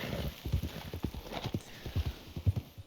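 Horse hooves clip-clop at a walking pace in Red Dead Redemption 2, a steady close rhythm of soft thuds with a brief whinny-like sound, and no one talking over it.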